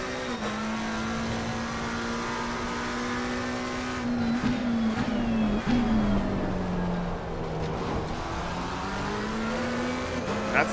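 McLaren 720S GT3 race car engine in Assetto Corsa Competizione, a loud sustained drone whose pitch rises and falls through gear changes and corners, with brief tire noise.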